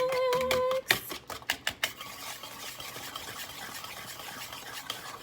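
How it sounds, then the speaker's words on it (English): A whisk beats banana bread batter in a bowl, starting with a quick burst of sharp metallic taps against the bowl that settles into a steady, softer swishing mix, close up. "we're gonna take a whisk and just mix everything all together so it becomes one uniform mixture."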